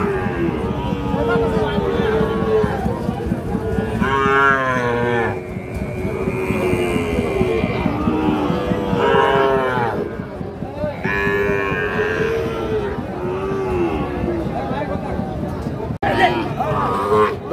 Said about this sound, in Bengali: কয়টি গরু রশি ধরে টানাটানি চলছে